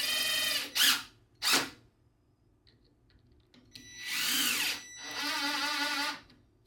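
A power drill drives 2-inch trim screws into LP Smart Trim around a shed window. Two short, loud whirring bursts are followed by two longer, close, high-pitched runs with a pause between them, and no talking.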